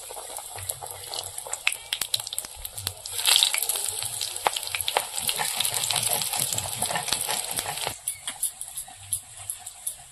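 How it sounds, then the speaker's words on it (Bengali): Radish leaf chops frying in hot oil in a wok give a steady close sizzle with light crackle and spatter, swelling mid-clip and easing near the end. "কড়াইতে তেল বসিয়ে দিয়েছি, এবার মূলো পাতার চপগুলো ভেজে নেব।"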